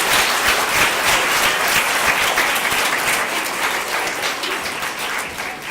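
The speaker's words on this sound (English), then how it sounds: "Can we give kindergarten a great big round of applause for this?" Sustained loud applause from an audience at a school assembly for kindergarten children, dense clapping continuing evenly throughout.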